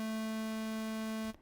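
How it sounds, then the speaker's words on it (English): A buzzy, harmonically rich synthesizer sawtooth-wave drone holds a single steady pitch, heard alone for just over a second before stopping abruptly. "while this saw wave"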